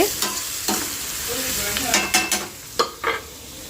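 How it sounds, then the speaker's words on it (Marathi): Onion, cumin and mustard seeds sizzle in a pan while a spatula scrapes and taps several times in an uneven rhythm, close and fairly loud. "पॅनमध्ये मी तर जिरं मोहरी आणि कांदा टाकलेला आहे थोडासा कांदा लाल होईपर्यंत"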